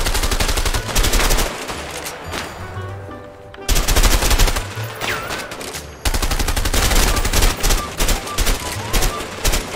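Bursts of rapid automatic gunfire from the video game A Way Out, with dense rattling volleys broken by short pauses, loud and continuous across the clip.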